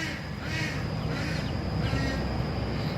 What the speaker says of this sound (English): And my duck's back there squawking